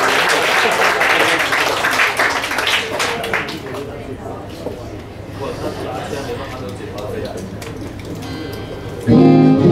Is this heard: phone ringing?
no